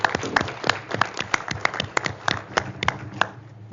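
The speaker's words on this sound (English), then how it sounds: "let's give Rand a big round of applause" A small group at an executive committee meeting claps for the grant writer, sparse distinct individual claps rather than a dense roar, moderately close and fading near the end.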